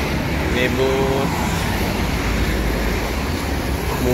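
Buses at an Indonesian bus terminal give a constant loud rumble of engines and traffic, with a brief tonal horn-like note early on and outdoor background noise throughout.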